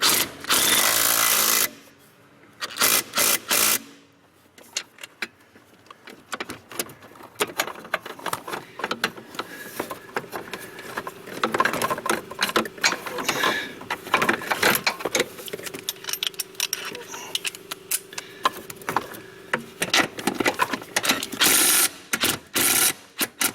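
On a GM truck hydroboost brake booster, a power tool whirs briefly before irregular ratcheting clicks and metallic rattles follow as the bolts are brought to full torque, close up and without speech.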